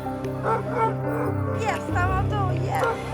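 Several dogs excitedly yip, whimper and bark in short bursts, eager to set off on a hike, mixed with a steady low engine rumble and people talking over them.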